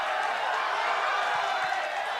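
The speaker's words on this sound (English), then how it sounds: "The crowd now yelling," Arena crowd at a boxing match in Cebu yelling and roaring after a twelve-round fight, a dense, steady wall of noise with scattered cheers and whoops and no single voice standing out.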